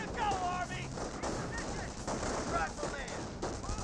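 Rifle squad gunfire crackles in the World War II strategy game Company of Heroes, rapid overlapping shots and bursts amid battle noise, with the whole mix fairly quiet.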